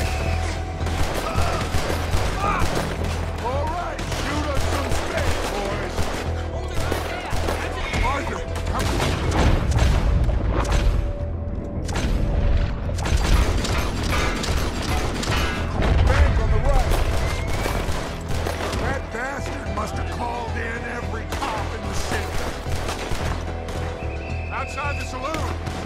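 Repeated gunfire and booms from a trolley escape shootout in the Western video game Red Dead Redemption 2, a dense continuous barrage with rumbling low blasts throughout, mixed with shouting voices and game sounds.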